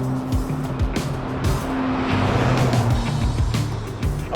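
A 2022 Ford Bronco Raptor off-road truck driving a twisty canyon road, engine droning and shifting pitch as it accelerates and slows through bends, loud and close with rushing tire and wind noise.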